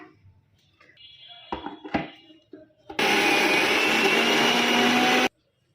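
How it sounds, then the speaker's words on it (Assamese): A mixer grinder grinds soaked lentils with green chillies and ginger. A few clunks of the jar being loaded come first, then a loud, steady motor whir runs for about two seconds and stops abruptly, close up. "এতিয়া মই এইটো মিক্সাৰত দিম।"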